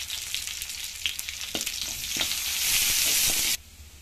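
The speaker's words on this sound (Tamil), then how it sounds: "இப்போ இஞ்சி வெள்ளப்பூடு பொறிஞ்சு வருது" Ginger and garlic fry in hot oil in a pan for a Tamil chicken string hopper kottu, a close, dense sizzle with a few stirring scrapes that swells louder before cutting off abruptly.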